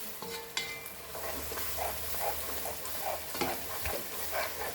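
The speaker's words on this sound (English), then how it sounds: "We are only frying." Tomatoes sizzle steadily in a hot pan for dal makhani, with a spatula scraping and stirring in soft repeated strokes, close and fairly quiet.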